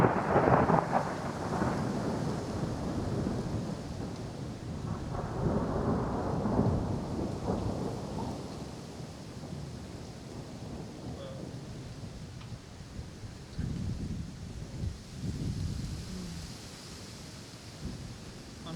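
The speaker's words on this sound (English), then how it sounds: "hearing thunder and rain" Deep rumbling thunder rolls repeatedly over a steady hiss of rain, the booms swelling and fading at intervals.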